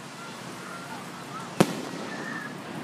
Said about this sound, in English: He's making a boomerang, Caitlin, where the firework like pops and open and closing like a hand.